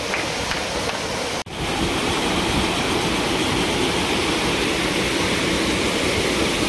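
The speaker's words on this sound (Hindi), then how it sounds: "बाकी ये वाटरफॉल देखो कितना मस्त है यार।" Loud, steady rushing water of a waterfall near Kimadi, Dehradun, roars without pause, broad and continuous, with one brief dropout early on.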